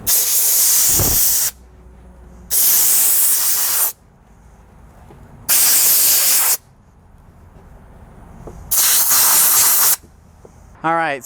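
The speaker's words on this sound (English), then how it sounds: "Spraying product into our brush." Cleaning product sprayed into a detailing brush inside a retired Forest Service truck, four long, loud hissing bursts with quiet gaps between them, close up, a short voice at the very end.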